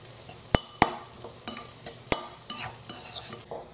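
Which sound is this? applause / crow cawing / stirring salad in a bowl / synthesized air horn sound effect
stirring salad in a bowl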